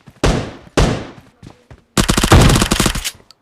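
Automatic gunfire in the Free Fire shooting game, two sharp single shots followed by a few lighter pops, then a loud rapid burst of fire, with no talking.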